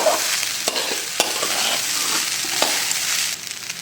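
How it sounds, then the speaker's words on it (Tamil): Coconut rice stirred in a pan with salt being mixed in: a soft steady sizzle with several sharp spatula scrapes and taps against the metal, close and clear, with no voices. "எல்லாத்தையும் நல்லா ஒன்றா கிளறிங்க"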